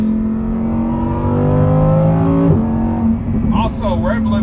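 A Lamborghini Huracan EVO's engine revs loud and close, its pitch climbing steadily toward its 8,500 rpm limit, then dropping abruptly as it shifts and settles into a lower, rougher growl.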